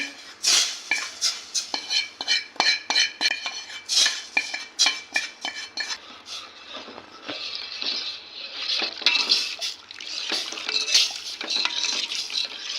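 A spoon stirs roasted gram flour into hot milk in a pot, scraping and clinking against the metal in quick, rhythmic strokes, close and fairly loud, with no talk.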